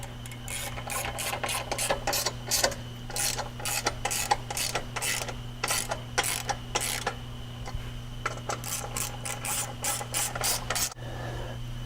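A socket ratchet snugging down bolts on a Kodiak 450 installation, its pawl clicking in rapid bursts of quick strokes with brief pauses, close and clear, with no talking.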